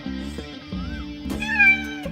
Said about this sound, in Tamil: ஓ கேட்.